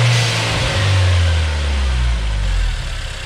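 Nissan Juke Nismo RS with a newly installed GFB blow-off valve revs up close by, the engine note sweeping down and back toward idle over a few seconds in a loud, rumbling burst.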